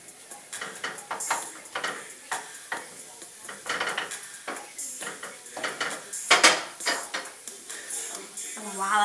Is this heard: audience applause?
no